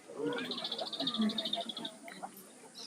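A chatty owl held at a bird of prey display gives a run of high, rapid chittering calls. Faint lower sounds follow at the end.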